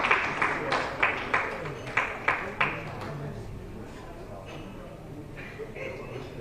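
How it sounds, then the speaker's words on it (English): Brief patter of audience applause at an East African event on constitutionalism and the rule of law: a few sharp, evenly spaced claps in the first half, then fading into a murmuring room with faint voices. "A hand clap for Honorable Chamsi"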